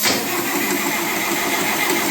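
A 1958 Oliver 550 diesel tractor engine cranks over and runs, a loud, close, steady mechanical drone with a dense rattling texture throughout.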